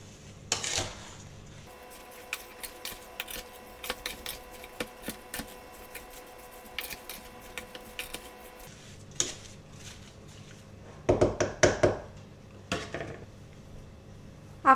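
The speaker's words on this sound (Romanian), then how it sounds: "Peste prune punem zahărul. Acum amestecăm bine." A spoon scrapes and clinks against a pot while plums and sugar are stirred together for plum jam, giving irregular small knocks and rubs at close range with no talking.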